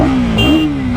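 A Royal Enfield Continental GT 650 and a KTM Duke 250 accelerate hard together on an empty road in a drag race, their engines giving a loud, close, droning roar that rises and wavers briefly.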